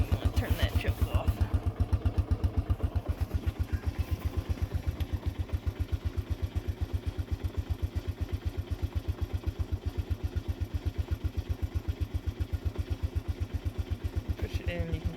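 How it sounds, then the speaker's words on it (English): A 1987 Honda TRX125 ATV idles on choke after a cold start, its single engine thumping in a steady, rapid, slightly uneven beat close by for the whole stretch. "It'll start to get a little faster. It'll sound like it's going to cut off,"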